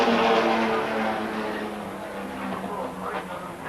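Sports sedans racing at Wanneroo in 1982, including a Capri, roar past in a loud, continuous engine blare that fades slightly midway before swelling again, with a commentator talking over it.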